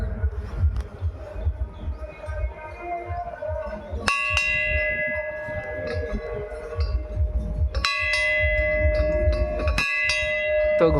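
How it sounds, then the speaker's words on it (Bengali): A temple bell at a Shiva temple rung twice, each strike a bright ringing clang with a long sustained tone, heard over a low throbbing rumble of handling and movement nearby. "তো ঘন্টাটা বাজানো হয়ে গেছে"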